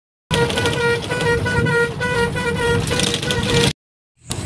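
Vehicle horn honking steadily on a road, a sustained tonal blare lasting about three seconds, loud and close, followed by a brief gap and the start of another sound.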